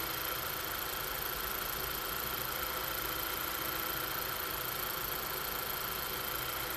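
A car engine idles with a steady, unbroken hum and faint rhythmic vibration, held at constant level throughout with no revving and no voices.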